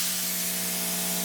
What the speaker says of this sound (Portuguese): Esse é o barulho da ponteira.